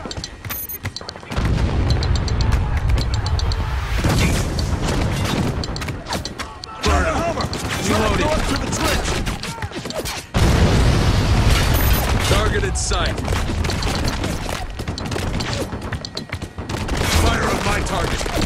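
Mortar fire and heavy explosions in the war shooter Spec Ops: The Line, a loud, dense run of booms and blasts with rumbling bursts under game voice chatter and radio callouts.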